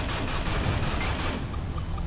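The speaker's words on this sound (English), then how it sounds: "There's turrets. They shoot missiles at me." Dense rapid blasts of turrets firing missiles in the space shooter game Everspace, a loud, steady barrage filling the whole moment with no voices.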